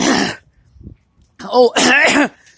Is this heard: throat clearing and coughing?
yes